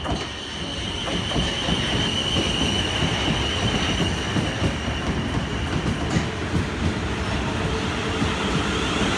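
A South Western Railway Class 450 electric train passes through Southampton Central station with a steady loud rumble and rhythmic wheel clatter, faint squealing from the wheels.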